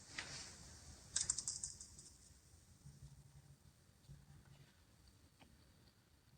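A computer keyboard is heard as a configuration file is edited. Quiet, close key clicks come in short bursts and then scattered single taps, with no voices.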